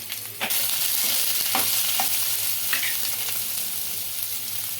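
Chopped onions with cumin and mustard seeds fry in hot oil, producing a steady, close sizzling hiss with a few light taps and pops, and no voices.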